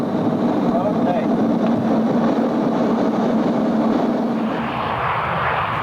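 Twin jet engines of a DC-9 on its takeoff roll at about 92% of full power, a steady, loud, unbroken roar that fills the cabin throughout.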